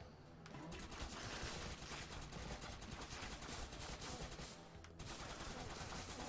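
A minigun fires in Crimsonland, a continuous, dense, rattling burst that runs almost nonstop, with a brief pause near the end before it resumes.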